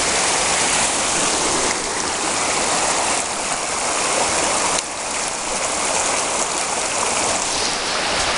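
A high banker gold sluice at a forest creek runs with water, giving a steady, loud rushing wash with no breaks and no voices.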